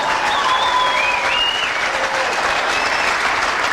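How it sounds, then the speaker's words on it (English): A keynote audience bursts into steady, loud applause, with dense clapping filling the whole moment and a few faint whistles or voices rising above it. "How about a round of applause for that one, you guys?"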